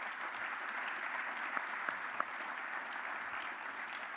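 An audience at a university football former players panel applauds continuously, a soft, even patter of many hands heard from a distance with a few sharper claps standing out.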